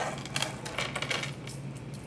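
Copper pennies minted before 1981, set out for a simple plate and vinegar experiment, clink and jingle close by in a quick run of light metallic taps.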